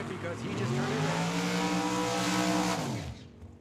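A dragster at a Tucson drag strip roars past in one loud, sustained engine blast that holds steady for about three seconds, then cuts off sharply.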